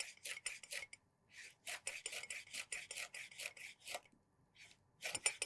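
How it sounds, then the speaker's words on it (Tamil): A knife chopping capsicum finely on a board in a cooking show kitchen, giving rapid, steady close-up blade strikes in bursts with short pauses, loud and alone. "கொடை மிளகாயை சின்ன சின்ன பீஸா கட் பண்ணிக்கிறோம் அதை ஃபைனாக சாப் பண்ணிக்கிறோம்"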